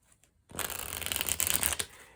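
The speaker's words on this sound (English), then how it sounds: "I'm just gonna do like a half shuffle" A quick half shuffle of Celtic Tarot cards: a short burst of brisk, dense flapping that starts abruptly and cuts off cleanly after about a second, close and fairly loud.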